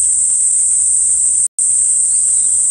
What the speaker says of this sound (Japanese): セミがうるさくて声が聞こえない。